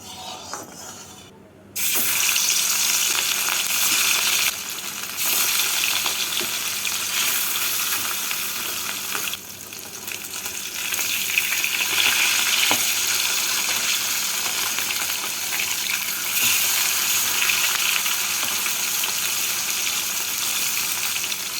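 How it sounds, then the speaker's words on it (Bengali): Rohu fish pieces fry in hot mustard oil in a wok, giving a steady, loud broadband sizzle that runs throughout after a brief quieter start, with occasional faint stirring clinks. "এটাকে গরম করে নিয়ে মাছগুলোকে ভেজে তুলে নেব"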